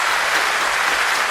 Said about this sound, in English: So I want to give a round of applause for the 7-Figure family